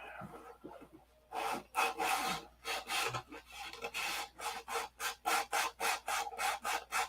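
A Cobra model car body coated in Z-poxy epoxy is sanded by hand in fast, even back-and-forth strokes, a close and steady rhythmic rasping that speeds up toward the end.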